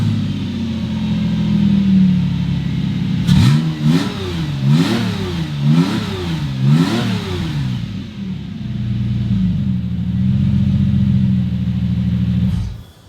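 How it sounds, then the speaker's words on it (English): A Porsche 911 fitted with a swapped Subaru EZ30R flat-six idles steadily, then gives a run of about five quick, rising and falling revs before settling back to idle and shutting off. "So that smooth startup and rev tells me this has to be ECU related."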